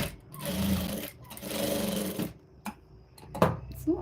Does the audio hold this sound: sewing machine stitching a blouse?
yes